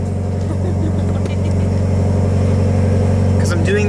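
Car engine idling and running to burn off fuel, a steady loud low drone with a rough pulsing rhythm throughout. A short rising tone near the end.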